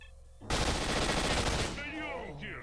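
Automatic gunfire empties a whole magazine in the video game S.T.A.L.K.E.R.: Shadow of Chernobyl, one loud, rapid burst of about a second lasting until the gun runs dry, followed by brief in-game sounds.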